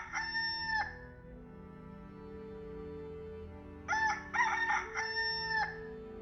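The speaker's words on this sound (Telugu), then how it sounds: "ఈ కోడి అరుపు ఎక్కడో విన్నట్టుంది." A rooster crows nearby, one call, a pause, then another longer crow broken into several bursts, against a quiet background.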